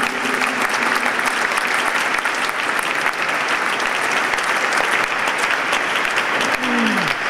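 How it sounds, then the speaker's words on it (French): An audience fills the Sacré-Coeur basilica in Montmartre with loud, sustained applause, a thick unbroken roar of many clapping hands echoing through the space. "On peut les applaudir."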